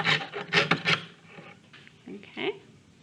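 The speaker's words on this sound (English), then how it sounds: "sawing out the piece." A jeweler's saw cutting out a pierced metal piece, with a burst of quick raspy strokes at the start, then quieter, scattered scraping strokes near the mic.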